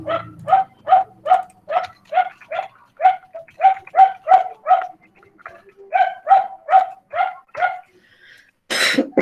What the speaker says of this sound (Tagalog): Malakas pa yung boses ata ng aso kaysa sa akin.